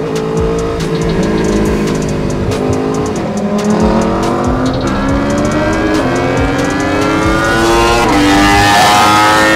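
A Nissan GT-R with 850 hp and 1100 Nm accelerates hard on a road, heard from inside as a loud rising engine note climbing steadily through the gears with rapid pitch sweeps and no talk.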